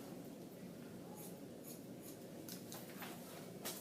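Scissors snipping a small guideline into hair at the top and crown, a series of faint, crisp little cuts over steady room noise.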